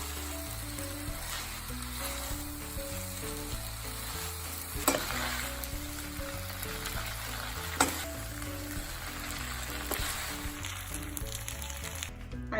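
Wheat-flour Hakka noodles, street-food style, are stir-fried in a pan with a steady sizzle, punctuated by repeated scraping and tossing knocks from the stirring utensil, close and moderately quiet.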